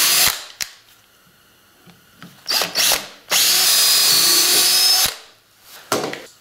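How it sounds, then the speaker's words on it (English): A power drill whirs in several short bursts, then runs in one long, loud grinding stretch while drilling holes for a twin-legged bicycle kickstand before stopping, close and with no talking. "let's just drill through here."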